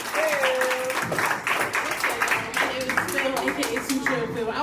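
An open mic audience breaks into applause, a dense stretch of clapping mixed with talk and voices.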